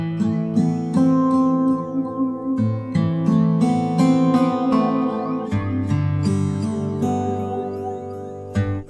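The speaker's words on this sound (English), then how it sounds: "which is the phaser effect." A KOMPLETE Classics software synthesizer plays a sequence of sustained chords and notes run through a sweeping phaser effect, heard alone and fairly loud for about nine seconds with no voice.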